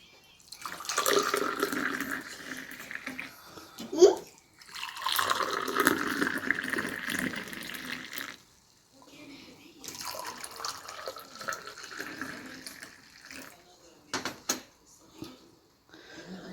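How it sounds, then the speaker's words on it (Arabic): Tea being poured at a home breakfast table, a splashing stream of liquid in several bursts with short pauses, fairly close and clear, and no talking. "ندير نخوي اتاي"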